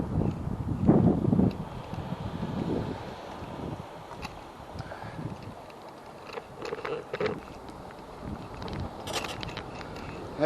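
Strong, gusting wind buffets a cyclist on a ride during a high wind advisory, a rough steady rumble of wind noise across the microphone with louder gusts early on and a voice partly beneath it.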